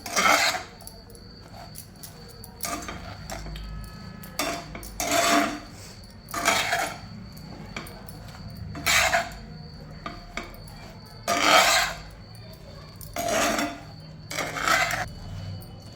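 A spoon stirring crispy makhana through a sesame and jaggery mixture in a pan, with repeated scraping, rattling bursts at a steady rhythm separated by short quiet gaps, close and clear.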